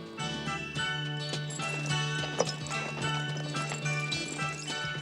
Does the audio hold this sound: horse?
yes